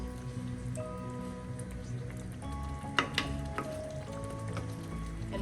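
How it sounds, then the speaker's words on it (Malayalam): A yellow trevally fish chilli curry boils in a pot, a steady soft bubbling and sizzling with scattered pops and light clinks, fairly quiet and with no talk. "എല്ലാം നല്ലതുപോലെ തിളയ്ക്കാൻ തുടങ്ങിയിട്ടുണ്ട്."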